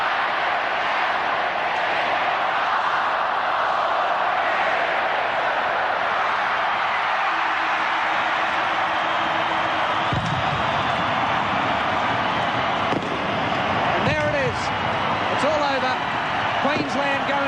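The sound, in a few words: stadium crowd counting down final seconds of rugby league match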